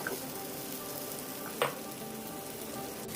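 Cut drumstick pieces are stirred into masala frying in a pan, giving a steady close sizzle with one brief scrape of the spoon partway through.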